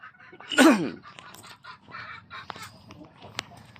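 Gamecocks in the priming stage, just let out of their flying pens in General Santos City, give one loud, close, rising call followed by scattered softer clucks and chirps over a low background rumble.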